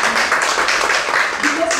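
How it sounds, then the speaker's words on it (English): A crowd at a motivational conference claps for a woman named Laura, a busy wash of many hands under voices talking and calling out over it throughout. "Let's clap for that, Laura"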